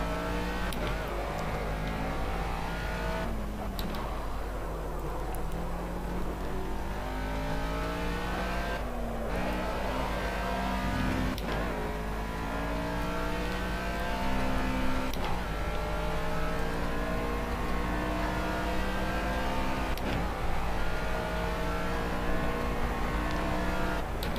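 A race car in the Project CARS video game revs and shifts through gears over a long lap, its engine climbing and dropping in repeated sweeps with occasional tire squeal, loud and steady throughout.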